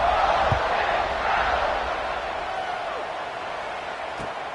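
A stadium crowd in an American football video game roars with a broad, sustained murmur and cheer that gradually fades slightly, with no clear speech over it.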